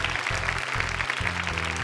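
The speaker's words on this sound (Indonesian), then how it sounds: "Boleh tepuk tangan untuk mereka berdua" Studio audience applauding two male contestants on a Quran memorization quiz show, a steady dense wash of clapping over a low repeating musical bed.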